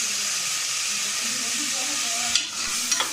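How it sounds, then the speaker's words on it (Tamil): Small sambar onions and chopped tomatoes with a little salt sizzle and hiss steadily in a hot pan as they sauté for mutton fat soup, with occasional stirring scrapes and faint talk underneath. "சாம்பார் வெங்காயத்தை சேர்த்து நல்லா வதக்கிப்போம்"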